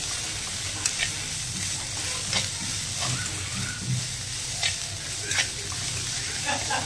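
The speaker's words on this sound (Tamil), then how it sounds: "இதை விட இன்னும் கொஞ்சம் ப்ரௌன் கலரில் வரணும் வெங்காயம்" Onions frying and browning in a pan for paniyaram, a constant close sizzle with bursts of spoon scraping and stirring scattered throughout, and no talking.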